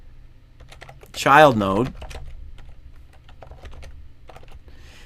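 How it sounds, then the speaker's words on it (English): Rapid clicking keystrokes on a computer keyboard patter steadily at close range, with a person speaking briefly over the typing. "let me type"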